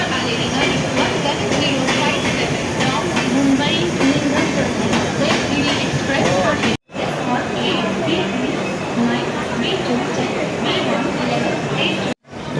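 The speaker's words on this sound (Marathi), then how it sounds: "या साईडला बघा ट्रेन येली आपली" The Mangalore Express rumbles and clatters loudly into a crowded Mumbai station platform, wheels rattling steadily while the crowd's voices carry underneath.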